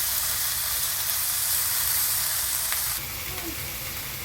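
Onions and peppers frying in a pan give a steady, close, bright sizzle that runs throughout, dropping slightly in loudness partway through.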